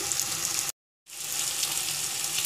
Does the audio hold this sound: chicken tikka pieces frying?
yes